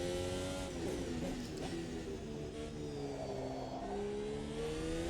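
Simulated 2022 Formula 1 car engine in a racing sim game, revving steadily with rising and falling pitch as it works through corners, loud and continuous throughout.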